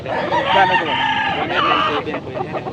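Roosters crow at a rainy-day poultry market in Angeles, Pampanga, a drawn-out cock-a-doodle-doo close by with clucking and people talking around it.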